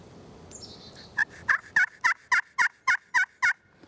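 A hand-made rock maple striker drawn across a turkey call produces a quick series of about ten loud, evenly spaced yelping clucks, close up and clear after a brief quiet scrape.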